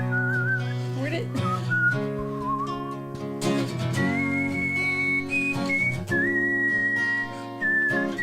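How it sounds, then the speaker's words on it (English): A man whistles a tune in clear, sliding melodic phrases over a quieter background of music, with short pauses between phrases. "How'd you like my whistling earlier?"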